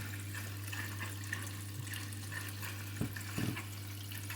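Water rushes in with a steady hiss over a low electrical hum as a Candy washing machine fills more slowly than usual on a darks cycle, with a couple of soft clunks near the end.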